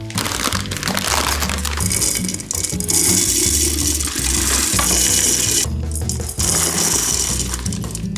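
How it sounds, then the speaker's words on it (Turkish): Mixed nuts poured from a bowl into several bowls, a loud continuous dense rattling and clattering of hard kernels that runs almost unbroken, with a few brief pauses between pours. "Şimdi bunu önümdeki kaselere dökeceğim."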